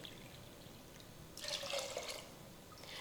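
Water is poured into a pressure cooker holding millet khichdi with salt and turmeric: a short, soft splash and trickle lasting under a second amid quiet kitchen background.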